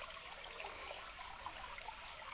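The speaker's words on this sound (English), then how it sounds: "Biма, look at this river." A river flowing along a hiking trail, a steady broadband rush of water running continuously at moderate distance with no talk over it.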